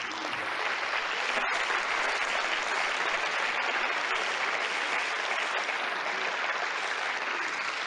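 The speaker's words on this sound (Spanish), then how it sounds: "Un aplauso, démosle." Church congregation applauding steadily for about eight seconds, a dense, even wash of clapping hands at constant loudness with no voices on top.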